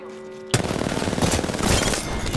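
Rapid automatic gunfire erupts in the Apex Legends battle royale shooter, a loud sustained burst of shots starting abruptly after a brief tonal game sound and continuing to the end.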